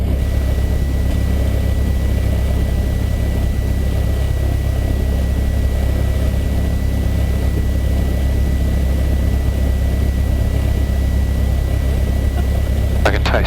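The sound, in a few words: Cessna 172 aircraft engine while taxiing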